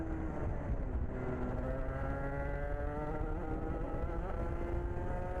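A two-stroke racing kart engine accelerates hard on a slippery track at Salbris, its loud, steady buzzing whine climbing in pitch across the whole stretch with no voices over it.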